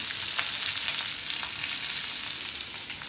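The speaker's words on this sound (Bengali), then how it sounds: "পেঁয়াজগুলো ভেজে নেবো ভালো করে" Continuous bright sizzling of onions frying in oil, close and steady, with soft crackles and no voices.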